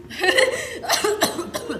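A person coughs in several short, throaty bursts that blend into chuckle-like sounds, close by and fairly loud.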